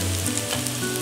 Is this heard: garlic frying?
yes